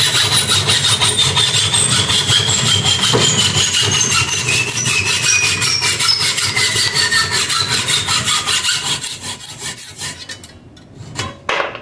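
Hacksaw with a somewhat dull blade cutting through a metal bicycle frame tube, a steady rapid back-and-forth rasping stroke rhythm, close and loud, ending with a few clatters near the end.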